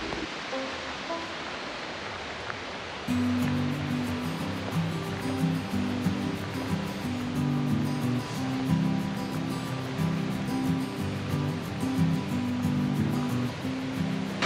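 A stream, the Sloupský potok, flows beside an uphill hiking path in a narrow valley, giving a continuous rushing, burbling wash that stays steady and close, growing fuller and louder after the first few seconds, with no voices.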